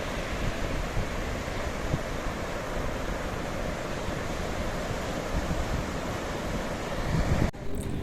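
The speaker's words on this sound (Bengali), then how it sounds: "এখানে প্রচুর সমুদ্রের গর্জন আর হাওয়ার আওয়াজ" Sea waves roar and wind blows at Puri beach near the river mouth, a dense, steady wash of surf and gusts that continues unbroken for several seconds, with no voices.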